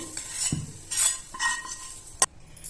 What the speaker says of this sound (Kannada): ಈಗ ಇದೆಲ್ಲವನ್ನು 1 ಸ್ಪೂನ್ ತಗೊಂಡು ಎಲ್ಲ ಈ ರೀತಿ ಮಿಕ್ಸ್ ಮಾಡ್ಕೊಳ್ಳೋಣ